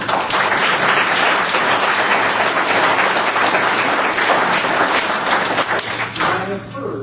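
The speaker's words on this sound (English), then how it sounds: "give a round of applause to those 7 other people that ran for this" Audience at a political gathering applauding election candidates, with dense, loud clapping and scattered thumps that hold steady, then thin out into a few last claps.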